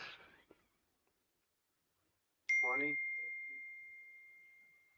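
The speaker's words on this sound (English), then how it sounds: "You got a text message, sir." A single bright text message notification ding rings out after a brief silence, sustaining a clean tone that slowly fades, preceded by a short burst of faint noise.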